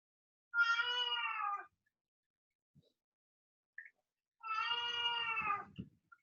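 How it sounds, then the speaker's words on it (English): A house cat meows twice, each call a drawn-out, close, clear yowl lasting about a second, separated by near silence with a couple of faint soft knocks. "My cat obviously has something to say."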